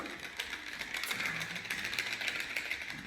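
A small cube shaken steadily, giving a dull, muffled rattle of loose contents tumbling inside, continuous for a few seconds.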